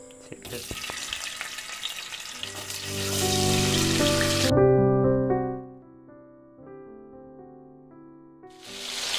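Cut paneer pieces frying in a pan give a loud crackling sizzle for the first few seconds, then fade to a softer hiss under a sustained musical tone before the sizzle returns at the end.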